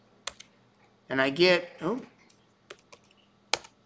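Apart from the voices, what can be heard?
typing on a computer keyboard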